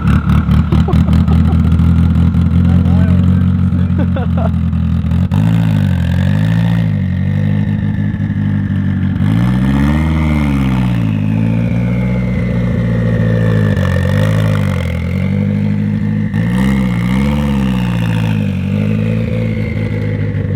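A loud 500HP Mitsubishi Evo 8 revving repeatedly, its engine note rising and falling in waves over a rough idle, heard from up close, with people talking over it.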